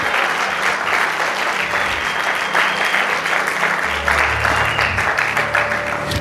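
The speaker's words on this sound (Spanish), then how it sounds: "esperé que usted terminara de dar el aplauso" Church congregation applauding during a sermon, sustained loud clapping from a large crowd with low background hum and tones beneath.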